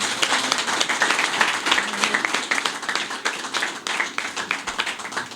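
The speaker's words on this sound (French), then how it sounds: "Donc il faut les applaudir très fort." An audience claps for musicians honoured by Baba Maal, sustained, lively applause with distinct individual claps in a steady, fairly even stream throughout, moderately loud and close.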